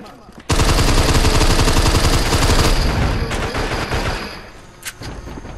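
Loud, sustained automatic gunfire from an off-brand Fortnite-style shooter game, a dense rapid stream of shots that fades slightly toward the end, with a few sharper reports.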